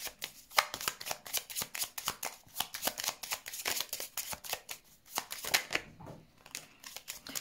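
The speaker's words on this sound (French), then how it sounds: "je vais mettre des cartes sur ce choix pour voir un petit peu" Tarot cards shuffled in quick, rhythmic riffling bursts, followed by cards being handled and set down, close and fairly quiet with no talk.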